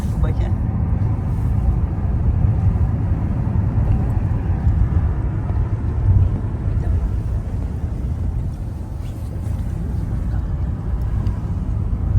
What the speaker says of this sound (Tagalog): Nakasakay na kami sa taxi dito.